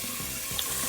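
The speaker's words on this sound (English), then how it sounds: "I'm gonna add like 6 cups of water." Water running from a tap into a pot of jasmine rice, a steady close splashing rush that fills the whole moment without any talk.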